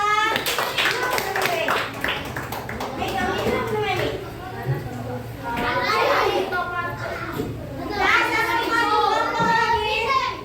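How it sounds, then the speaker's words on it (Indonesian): A fifth-grade class claps for a classmates' group in a classroom, rhythmic bursts of hand claps mixed with loud, excited children's voices shouting and chattering over them. "tepuk tangan untuk kelompok ESA"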